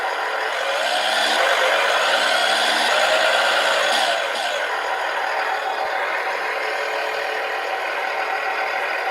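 A sound module in an RC semi truck drones and rattles, rising in pitch then dropping as it shifts gear, fairly close and steady.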